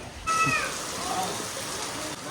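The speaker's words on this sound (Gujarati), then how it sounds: "વરસાદ આવી ગયો" Rain starts falling outdoors at home, a soft steady hiss of drops that rises suddenly and continues evenly, with a brief high-pitched squeak near the start.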